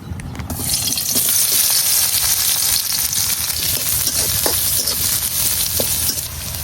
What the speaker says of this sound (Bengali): এখন এই মাছ ভাজার তেলের মধ্যে দিয়ে দিতেছি পেঁয়াজ।